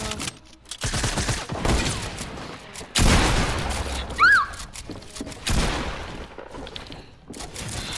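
Heavy sniper rifle shots in Fortnite, several sharp loud cracks with booming tails spaced a few seconds apart, mixed with other game noises and a brief rising whistle.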